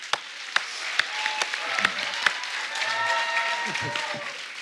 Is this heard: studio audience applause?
yes